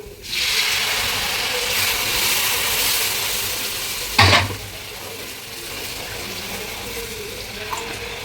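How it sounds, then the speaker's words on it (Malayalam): Water is poured into hot masala with turmeric and chili powder for a fried sardine pickle, giving a continuous loud sizzle and bubbling, then a sharp hissing burst partway through before the frying settles. "നമുക്കിതിൽ വെള്ളം ഒഴിച്ചു കൊടുക്കാം."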